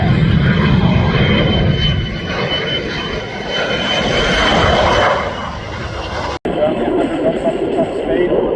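A Lockheed F-35A Lightning II jet roars past during an airshow at Shellharbour, a loud sustained engine rumble that swells and fades, with a public-address commentator talking over it.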